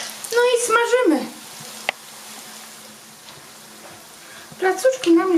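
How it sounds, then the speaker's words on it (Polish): Zucchini fritters fry in a pan with a soft, constant sizzle, quieter between bursts of someone talking in Polish at the start and end. "no i smażymy"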